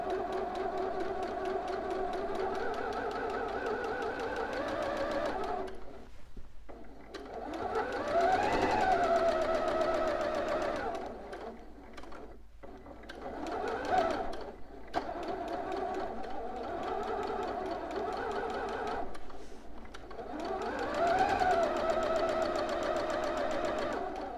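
A sewing machine stay stitches a bodice neck curve in several bursts, its motor whirring up and down in pitch as it slows, pauses and speeds up again over about twenty-four seconds.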